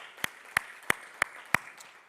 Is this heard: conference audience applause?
yes